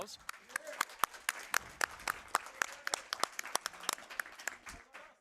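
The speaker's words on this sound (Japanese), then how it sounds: "解説してくれたケイズ・フリューさんに拍手が送られました" Scattered applause from a small group at a Grand Theft Auto III speedrun charity event, sharp irregular claps rising and thinning out, fairly faint, with murmured talk underneath.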